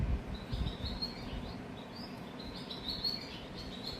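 Small birds chirp and tweet in quick high bursts on a mountain hiking trail near Dubrovnik, Croatia, heard over a steady low rumble of wind or ambient noise, moderately close with no talking.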